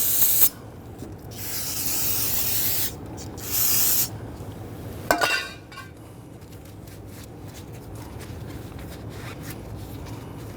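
Aerosol solvent sprayed onto a rear brake caliper of a 2010-2019 Ford Taurus, several sharp hissing bursts of a few seconds each, with a brief rubbing clatter between them and quiet garage ambience afterward.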